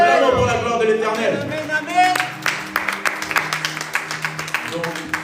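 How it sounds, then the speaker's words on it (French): Church congregation applauding for the glory of God, a burst of brisk clapping that follows sung or spoken voices and carries on with quick claps of varying loudness. "Acclamons pour la gloire de l'Éternel."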